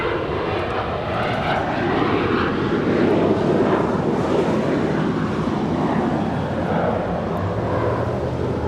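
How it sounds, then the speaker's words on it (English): United Airlines jet landing on the south side at LAX, arriving from Dulles; a steady, fairly loud jet engine roar persists throughout without audible talk. "United Airlines 632 just landed here on the south side, coming in from Dulles."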